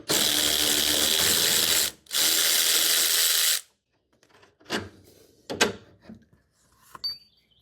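Two sustained bursts of a ratchet or power driver remove a 14 mm bolt from a cheap 6-inch golf cart lift, followed by scattered metallic clicks and clanks of the tool and parts.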